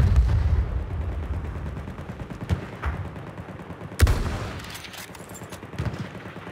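Gunfire in Battlefield 1 comes as a rapid run of shots and booms, with sharp louder blasts standing out near the middle and toward the end over a dense, rumbling battle backdrop.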